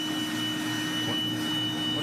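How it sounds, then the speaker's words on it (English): A vacuum cleaner, switched on by a mechanical contraption, runs with a steady, fairly loud motor drone and a constant whine for the whole stretch, with no talking. "it's going to turn on the vacuum cleaner"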